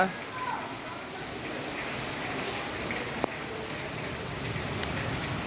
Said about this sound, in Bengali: বৃষ্টি যে আসতেছে এত লজ্জা পাইতেছে